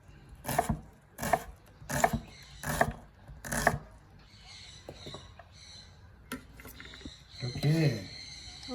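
Knife chopping onion on a wooden board for a quinoa salad: five crisp, evenly spaced cuts up close, followed by quieter kitchen handling and a voice speaking briefly.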